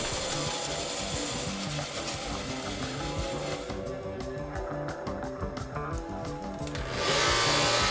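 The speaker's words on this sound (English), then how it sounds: "Now I'm actually going to cut the shape of this oval out roughly on the bandsaw here" A bandsaw cuts an oval shape from a dense red oak board, a loud, steady whining roar with a rough sawing texture that drops briefly mid-cut and then surges back at full strength.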